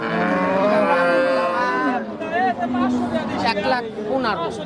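A dairy cow at a cattle market gives a long, loud, close moo, followed by shorter lowing calls, while a crowd chatters and voices talk in the background.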